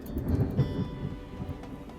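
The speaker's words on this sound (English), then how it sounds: "We have a hell of a storm going on outside" Thunder from a heavy storm outside, a loud, continuous low rumble with rain running steadily beneath it throughout.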